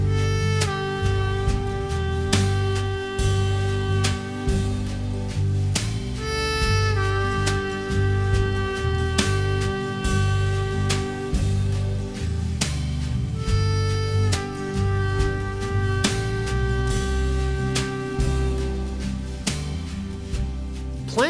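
A harmonica repeatedly bends a single draw note over a steady drone track in A, with the bent note sliding and wavering above a dense, continuous backing throughout.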